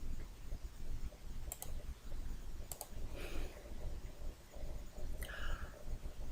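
A computer mouse gives a few quick, faint clicks against a quiet room hiss, two short pairs near the start and a lone click later.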